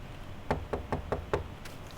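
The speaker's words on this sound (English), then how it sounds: "And we'll knock on the door" A door in a farming roleplay video game is knocked on five times in a quick, even series of sharp, close raps, followed by a brief quiet pause with no talking.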